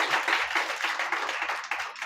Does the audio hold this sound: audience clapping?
yes